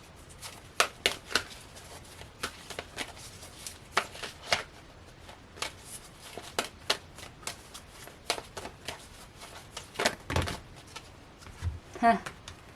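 Tarot cards being shuffled close up, with repeated soft riffling bursts and light taps at an irregular pace, while a voice talks quietly underneath.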